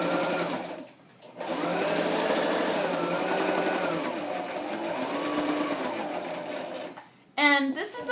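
A sewing machine runs a straight stitch on scrapbook pages, a loud close whirring motor hum that pauses briefly near the start, then starts again and stops before a short rattling burst at the end.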